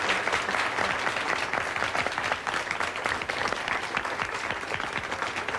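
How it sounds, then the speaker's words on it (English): Sustained, dense applause from an audience rolls on steadily without pause, many hands clapping at once with no clear gaps. "You please applaud."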